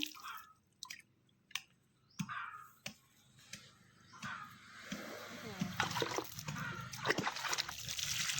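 Water is poured onto two newly planted rose plants, with separate drips and splashes at first, then building into a denser, louder splashing stream near the end.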